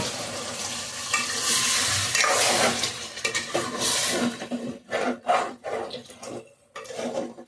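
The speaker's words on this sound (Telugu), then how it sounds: "ఇప్పుడు ఇందులో అయితే వాటర్ పోస్తున్నానండి" Water poured into a simmering beef, eggplant and potato curry in hot oil gives a loud, steady hissing sizzle. It then breaks into choppy bursts of stirring and bubbling near the pot.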